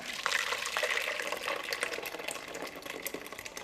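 Herb broth poured from a vessel back into a cooking pot, a steady liquid splash and trickle running alone for a few seconds at moderate level.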